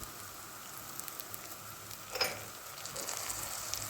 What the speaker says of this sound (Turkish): Pirinci yüksek ısıda karıştırarak pişirmeye devam edelim.